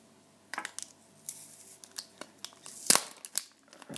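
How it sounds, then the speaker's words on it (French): Packaging for an Apple Remote is torn and crinkled open, giving scattered crisp rustles and tearing bursts with one sharp loud rip near the end, all close and without talk. "on va commencer à déballer l'Apple Remote."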